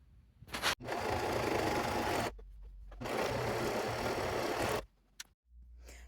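A sewing machine stitches a zigzag along loose-weave fabric in two long, loud, steady runs separated by short pauses, ending with a brief burst, close up and with no talking.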